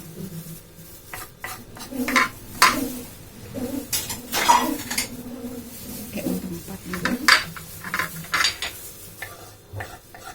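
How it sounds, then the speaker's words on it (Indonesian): Spice ingredients for a red seasoning paste being coarsely chopped, irregular knocks and clinks of a knife on a board and utensils, spaced unevenly with short pauses between bursts. "Nah, kita cincang. Kita cincang besar."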